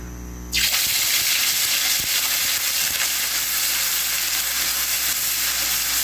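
Onion and garlic paste hits a hot pan and bursts into a loud, steady sizzle that continues unbroken after the abrupt start, close and alone.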